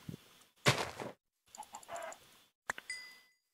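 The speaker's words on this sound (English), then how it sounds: "So there's some a few chickens right here." Chickens in the video game Minecraft give a few short, quiet clucks and squawks in separate bursts with silent gaps between them, and no talking.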